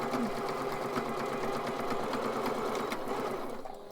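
A sewing machine stitches fabric for face masks in a fast, steady mechanical whir with rapid rhythmic ticking, close and continuous before slowing slightly at the end.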